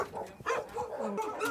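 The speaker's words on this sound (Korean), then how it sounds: "사방에서 개 짖는 소리가 울려 퍼지고 있는데요" Dogs bark on all sides at a dog farm on a wooded hillside, a scatter of short barks and yips at a moderate distance with no voices over them.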